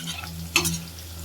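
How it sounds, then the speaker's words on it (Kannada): Vegetables frying with turmeric powder in a pan for a Karnataka ash gourd buttermilk curry, a soft steady sizzle broken by a single quick spatula scrape, faint and short with no talking. "ಫ್ರೈ ಮಾಡಬೇಕು"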